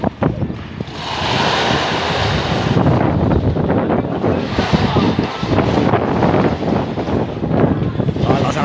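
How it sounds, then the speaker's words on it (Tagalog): Strong seaside wind buffets the microphone in heavy gusts, mixed with a broad roar like surf, while several people talk over it at close range. "Malakas ang hangin."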